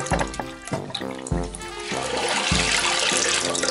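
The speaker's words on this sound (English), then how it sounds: "You see how it fills and then stops, fills and then stops." A toilet tank refills through a faulty fill valve, water rushing and gurgling in repeated surges that start and stop, close up with no voices.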